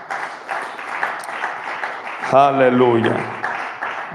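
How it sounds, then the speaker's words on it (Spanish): A church congregation applauds in a steady patter of clapping, while a voice rises over it in a brief sung exclamation midway. "Aplaude al Señor una vez más"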